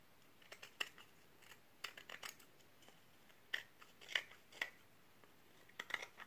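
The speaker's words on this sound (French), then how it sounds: "je coupe le surplus, évidemment" Excess material trimmed away for a heart-shaped craft made with linen, sounding as quiet, crisp scissor snips in scattered clusters, close up with no talking.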